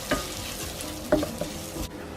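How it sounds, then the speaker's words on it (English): Risotto rice sautéing in a pan with its aromatics, kept from browning, sounds as a soft steady fry broken by a few sharp spoon scrapes and taps, close and moderately quiet, then cut off abruptly near the end. "And we fry everything together for another 2 minutes."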